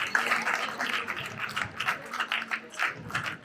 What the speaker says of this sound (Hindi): एक बार उसके लिए बस जोरदार तालियां हो जाए